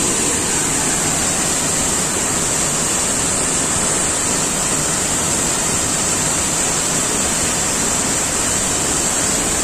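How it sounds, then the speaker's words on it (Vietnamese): Hang Dơi waterfall in Kbang, Gia Lai, a powerful high-volume cascade giving a loud, continuous, dense roar of rushing water that never lets up, close and enveloping. "nên người ta gọi cái thác này là thác Hang Dơi cho dễ nhớ và dễ gọi."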